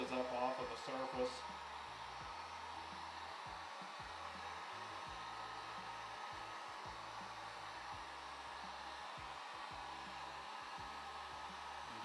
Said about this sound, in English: keep the heat gun moving, keep it about 3 or 4 inches up off of the surface